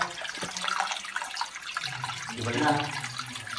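Underground river flowing through a deep cave in Tulungagung, a continuous hissing rush of water with gurgles and splashes echoing close by.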